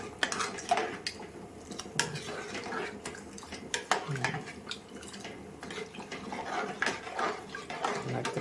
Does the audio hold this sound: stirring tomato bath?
yes